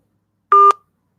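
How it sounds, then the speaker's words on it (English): A single short telephone keypad tone, loud and clean, sounds as a number is dialed to make a call, with silence before and after. "I gotta call Tammy back"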